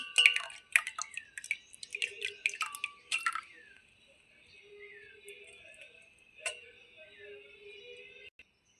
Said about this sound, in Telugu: ఇందులో మనం ఇందాక చిలికి పెట్టుకున్న పెరుగు అయితే వేసుకుందాం ఇలా వేస్తూ కలుపుకోవాలి